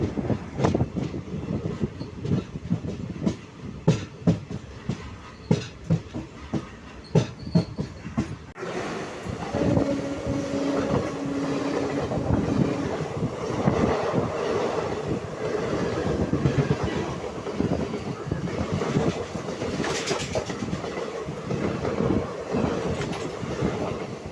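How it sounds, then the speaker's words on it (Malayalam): The Chennai Alappuzha Express rolls past at Mararikulam railway station, its wheels beating out a loud, rapid clickety-clack, then giving way to a dense steady rumble of passing carriages with faint squeals. "ഇതാണ് ചെന്നൈ ആലപ്പുഴ എക്സ്പ്രസ്"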